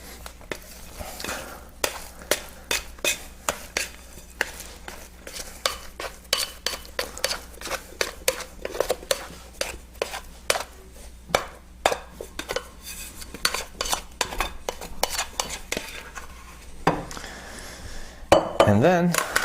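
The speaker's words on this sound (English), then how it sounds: "I'm going to scrape the wet dough out of the bowl onto a floured surface with this very handy" Wet bread dough scraped from a bowl with a plastic dough scraper, giving a run of rapid scraping knocks and taps against the bowl that continues steadily, ending with a louder clattery handling noise.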